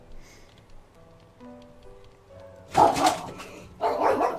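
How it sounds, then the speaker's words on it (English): A neighbour's dog barks twice, sharp and moderately loud, a short distance away. Soft tonal game music plays quietly beforehand. "one of the neighbours' dogs barking"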